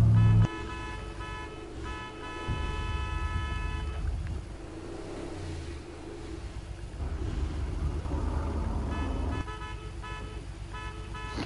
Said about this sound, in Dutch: Sta ik als imbecil te toeteren daar zo?